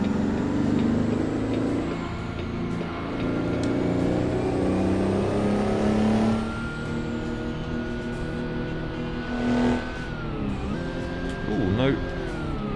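A Detroit Diesel 12V71T truck engine in American Truck Simulator drones loudly and steadily, its pitch rising and falling through gear changes, with a voice talking over it.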